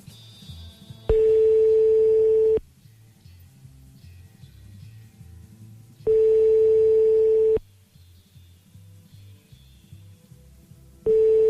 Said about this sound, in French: on rappelle Mousse Diouf une dernière fois